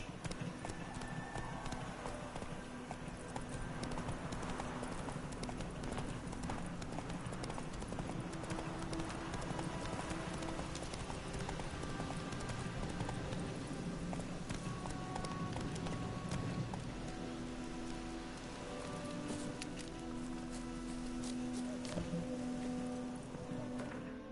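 Roach, Geralt's horse in The Witcher 3, clip-clops in a steady brisk trot throughout, with continuous hoofbeats over game ambience and background music.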